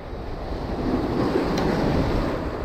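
Steady ocean surf and gusting wind on a beach near Santa Monica, California, with a continuous broadband wash of waves and rumbling wind noise buffeting the microphone throughout.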